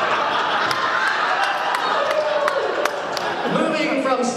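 A crowd at an outdoor hootenanny claps and cheers in a loud, dense, continuous roar, with some voices and chatter mixed through the applause.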